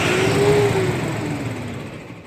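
A Tata 1918 BS6 six-tyre truck engine revs up briefly and then settles, a loud close mid-pitched roar that slowly fades.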